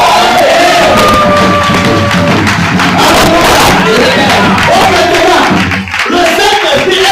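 A church congregation loudly acclaims and cheers in praise of the Holy Spirit, a dense roar of crowd voices, shouts and whoops sustained throughout, close and continuous with a brief dip near the end.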